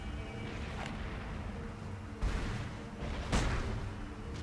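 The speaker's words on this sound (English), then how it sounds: "So let's try shooting him instead." Two gunshots from the Sam & Max adventure game, each a sharp broadband crack about a second apart, landing over a steady ambient game background at moderate loudness.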